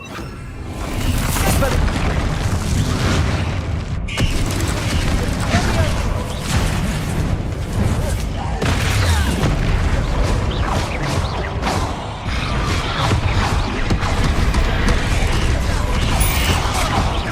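Bombarda and Confringo spells burst repeatedly during a final boss battle in Hogwarts Legacy, with loud, dense booms and crashes layered over mechanical creaks and clatter.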